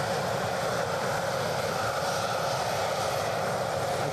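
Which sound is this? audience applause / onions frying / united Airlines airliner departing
united Airlines airliner departing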